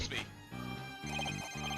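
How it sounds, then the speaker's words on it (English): A telephone rings in Phoenix Wright: Ace Attorney - Dual Destinies, a repeating electronic ring pulsing in short bursts over steady in-game music. "Where's this ringing coming from?"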